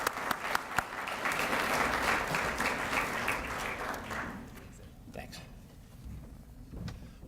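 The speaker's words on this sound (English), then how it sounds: "Please give Jim a round of applause as he comes up to the stage." A breakfast audience at a chamber of commerce event gives a round of applause as a guest walks up to the stage; the clapping is strong at first, then thins and fades out.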